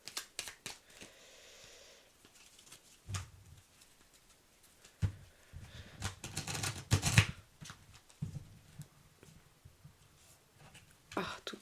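A deck of tarot cards is shuffled and handled in soft, papery riffles and flicks during a card reading. The sounds come in close, irregular bursts, with quiet handling and a few brief words between them.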